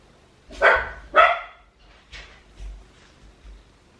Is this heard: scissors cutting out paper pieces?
no